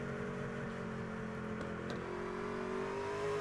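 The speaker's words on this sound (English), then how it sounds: "You hear Ty McIntosh really easy back to the throttle there" A race truck engine in a racing video game at Watkins Glen, steady and loud, with a sustained drone that slowly rises in pitch as the driver eases back onto the throttle, with no talk.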